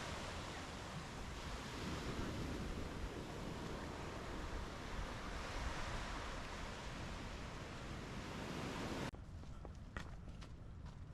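Ocean surf rolling onto Jungle Beach near Galle, Sri Lanka, on the Indian Ocean, a steady broad wash of waves that stays even throughout, with a brief shift in tone near the end.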